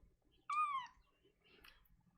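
A pet cat gives a single clear, rising-and-falling meow close by in a quiet room, followed by faint soft rustling.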